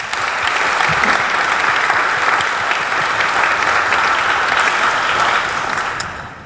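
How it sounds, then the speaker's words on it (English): A panel audience applauds loudly and steadily for several seconds before the clapping tapers off at the end. "Give them another round of applause"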